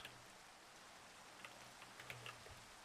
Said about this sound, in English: Of course it must rain.